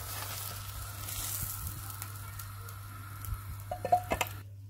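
An omelette frying in a pan gives a steady, quiet sizzle, close by with no voices over it, before cutting to silence at the very end.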